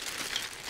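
Thin, lightweight plastic bag around an old AMT/ERTL 1959 Chevrolet Corvette model kit crinkles softly and continuously at close range, a faint, steady rustle with no talking.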